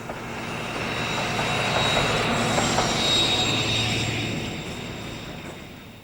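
Class 37 diesel locomotive 37154 arrives at Temple Meads hauling a Weymouth train, its engine rumble swelling as it nears and fading away, with faint wheel squeal above the steady roll.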